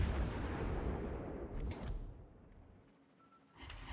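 Warship guns firing salvos in World of Warships, a deep rumbling boom that rolls and fades over a few seconds before another muffled blast begins, heard alone at moderate distance.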